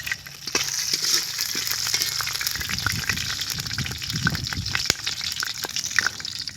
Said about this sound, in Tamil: அன்னாச்சிப்பூ, கிராம்பு நல்லா பொரிஞ்சிட்ருக்கு.